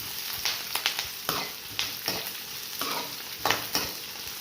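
Onions frying in a pan on a home stove, a soft continuous sizzle broken by repeated scraping strokes of a spoon stirring, close and fairly quiet.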